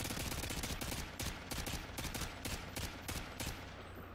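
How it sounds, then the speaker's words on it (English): Rapid gunfire in Modern Warfare 2, shooting through a wall panel: sharp, loud, closely spaced shots in quick bursts, sustained for several seconds with a brief pause near the middle. "you're just going to wall bang them straight through that little panel"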